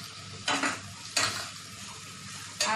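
Fried pointed gourd goes into a sizzling spice masala and is stirred, producing three separate bursts of loud sizzle with spoon scrapes, each fading back to a quieter frying hiss.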